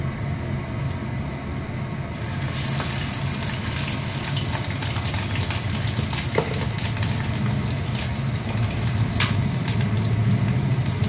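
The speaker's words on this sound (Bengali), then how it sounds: "এর মধ্যে আমি এখন ওই তেলের মধ্যে আমি এখন আদা বাটা দেব।" Ginger paste frying in hot oil in a pan, a steady dense sizzle that begins quieter and grows brighter and fuller after a couple of seconds, holding continuously with small crackling spits throughout.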